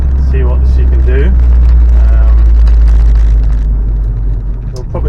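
Vauxhall Astra on its first drive after a full rebuild, its engine droning loud and steady throughout with a strong low rumble, while voices talk over it in the cabin.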